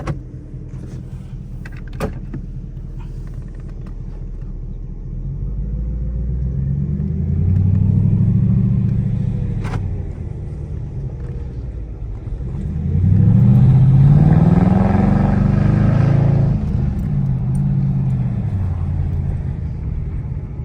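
A fully customized Mercedes CLS drives along, its exhaust rumbling loud and low throughout, swelling twice as the engine revs and accelerates, with no talking.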